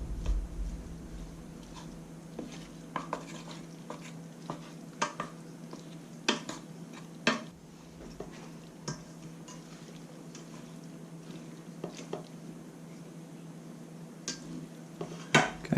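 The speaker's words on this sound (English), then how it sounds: "Start mixing this up here. You want to make sure everything's coated with the egg." A utensil stirs chopped bell peppers with egg in a bowl for stuffed peppers, giving soft irregular clinks and scrapes against the bowl over a low steady hum, with no talking.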